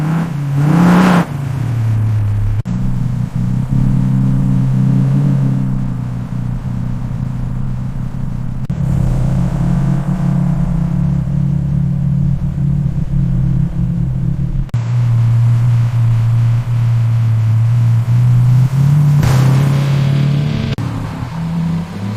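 A restored 1965 Ford Mustang barn find with a rebuilt engine revs on the road, a deep loud rumble that rises and falls through several gear changes, close and steady with no talking.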